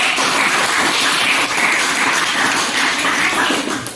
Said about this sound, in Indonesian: Tepuk tangan dulu untuk 9.